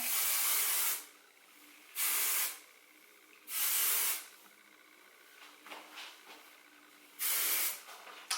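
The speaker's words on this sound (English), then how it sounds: "This is heat protecting spray, but I'm just going to spray this" Four sharp, loud hissing sprays from a heat protectant spray bottle onto hair, each about a second long, separated by short pauses with faint handling noises.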